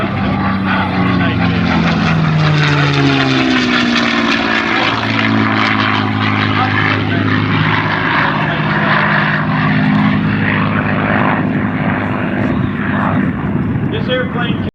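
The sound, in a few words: P-51 propeller airplane performing aerobatic precision rolls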